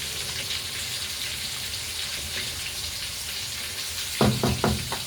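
Seafood soup thickened with flour, onion and garlic bubbles steadily in a pot with a soft, continuous simmering hiss, and a few quick utensil knocks sound near the end.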